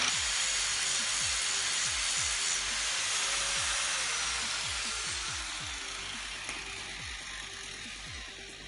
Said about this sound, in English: I put on a 4-inch grinder wheel here. I'm working it in.